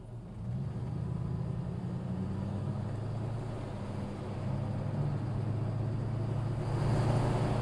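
Classic Rover P5B saloon with automatic gearbox pulling away, a soft, steady low engine rumble heard from inside the car, growing slightly louder toward the end.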